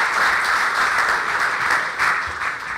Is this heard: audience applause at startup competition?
yes